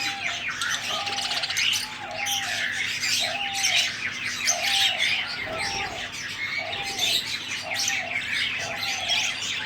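A dense chorus of Australian parrots chirps and chatters nonstop, with a lower repeated cooing call pulsing steadily underneath.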